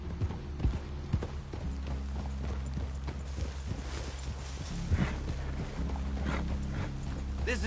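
Horse hooves walking in Red Dead Redemption 2, a steady clip-clop of hoofbeats over a low rumbling bed of outdoor ambience, fairly close and continuing throughout with no talking.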